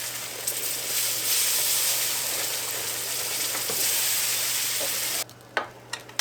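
Beef tips simmer and sizzle in a pan after water is added, a constant loud hiss that cuts off abruptly near the end and gives way to a few clinks.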